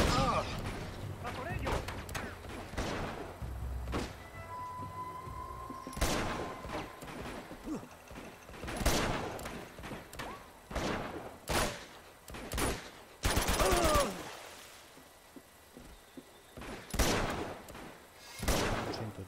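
Bursts of Uncharted 2 video-game gunfire in the Borneo chapter, sharp repeated shots and heavier booms scattered through the clip, with a voice talking intermittently over the action.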